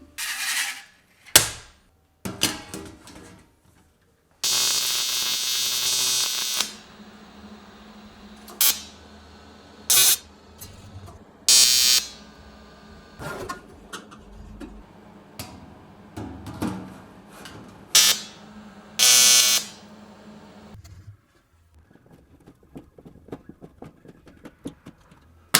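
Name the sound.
welding thin sheet metal parts for belt grinder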